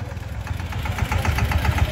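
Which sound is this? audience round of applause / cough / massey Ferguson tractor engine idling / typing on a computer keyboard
massey Ferguson tractor engine idling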